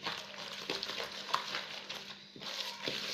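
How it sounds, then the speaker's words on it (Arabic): Spoon or spatula stirring a sticky dough mixture with a whole egg just added, a steady wet churning and scraping with short rhythmic strokes, close and fairly loud, no talking. "حنضيف حبه بيض كامله كما راكم تشوفوا هكا، ونواصلو نخلطو"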